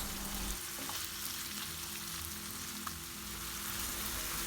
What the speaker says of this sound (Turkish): Üzerine küçük küçük doğradığımız 2-3 adet yeşil sivri biberleri, küp küp doğradığımız 1 adet domatesi ve yarım yemek kaşığı domates ya da biber salçasını ilave ediyoruz ve sebzeler yumuşayana kadar kavurmaya devam ediyoruz